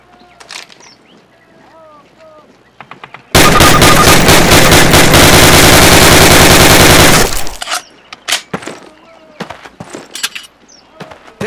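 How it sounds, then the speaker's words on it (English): Rapid sustained rifle fire in a Call of Duty campaign training range, a loud dense burst lasting about four seconds after a quieter stretch, followed by scattered softer clicks and shots. "Fire 3 more rounds at your target."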